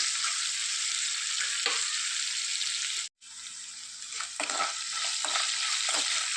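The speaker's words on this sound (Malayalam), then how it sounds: "ഇപ്പോൾ വെളുത്തുള്ളി ഇഞ്ചി പച്ചമുളകൊക്കെ നന്നായിട്ട് വഴന്ന് വരാൻ തുടങ്ങിയിട്ടുണ്ട്" Garlic, ginger and green chillies sautéing in oil with salted mango for a dried prawn mango pickle, a steady close sizzle with a few stirring scrapes and one brief break in the sound.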